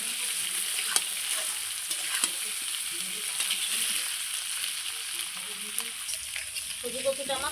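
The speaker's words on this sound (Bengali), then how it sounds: "সজি কচুটা আবার খুব সুন্দর করে ভেজে নেবো এই লবণ হলুদ দিয়ে" Taro pieces fry with salt and turmeric in a pan, a continuous close bright sizzle with scraping stirs and small pops throughout.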